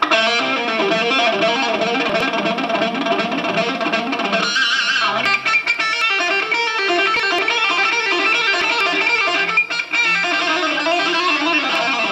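Heavily distorted electric guitar plays fast runs of hammered and pulled notes, loud and steady, with a brief break in the middle and no talking.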